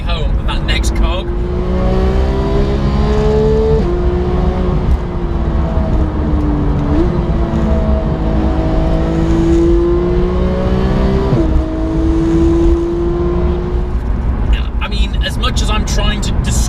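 A car engine revs up to about 9,000 rpm, pitch climbing steeply and dropping sharply at each paddle-flicked upshift before rising again, loud and continuous through several gears.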